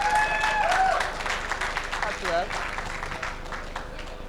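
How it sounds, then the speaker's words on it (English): Audience applause at a civic technology event for New York City apps, broadband clapping sustained throughout with a voice and some whistles or cheers rising over it, loudest at the start and easing slightly. "yeah, you can clap to that"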